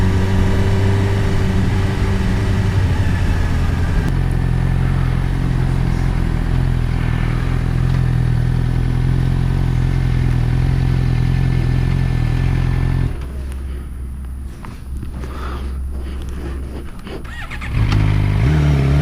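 Onboard a Suzuki GSXR 600 with a Yoshimura exhaust, the 600cc engine runs hard and loud with rising and falling revs, then drops to a quieter, rougher idle before opening up again near the end.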